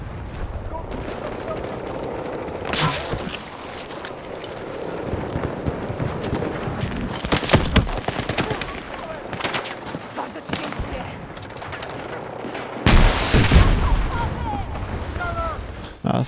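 Gunfire in the Battlefield 6 escalation mode: bursts of automatic fire and heavy shots crack out in clusters over steady battlefield ambience, with loud blasts near the start, middle and toward the end.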